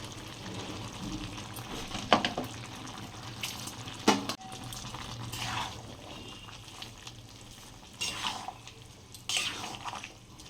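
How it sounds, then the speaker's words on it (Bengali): Water splashes and swirls in a kitchen bowl as leftover mustard, garlic, chilli and onion paste is rinsed out, coming in several short bursts against a quiet background with a faint low hum, fairly close and soft. "করে রাখা সর্ষে রসুন লঙ্কা পেঁয়াজ মশলার বাটিটা ধুয়ে জল"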